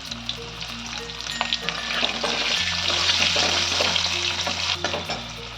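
Cauliflower and other vegetables fry and sizzle loudly in hot oil with turmeric, a steady crackling hiss with occasional stirring, over a low background hum.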